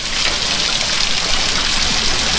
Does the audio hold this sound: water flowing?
yes